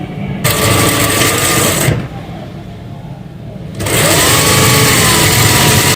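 A sewing machine runs in two loud bursts, stitching the shoulder seam of a frock, with a short quieter pause between them.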